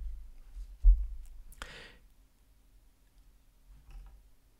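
A single sharp click of a computer mouse stands out clearly against a near-silent background, with a faint low thump earlier and a soft second tap later.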